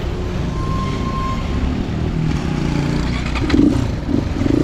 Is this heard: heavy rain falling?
no